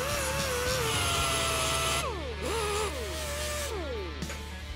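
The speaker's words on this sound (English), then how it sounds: "you'll want to clean it up just a bit after it's burned in, so a small grinder will take care of that" A small power grinder whines steadily on a welded steel part during a custom hot rod build from a 1949 Ford, its pitch dropping and rising repeatedly as it bites into the metal, close and continuous with no talking.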